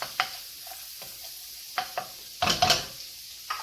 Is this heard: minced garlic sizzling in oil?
yes